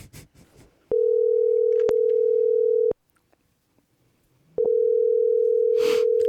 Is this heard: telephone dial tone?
yes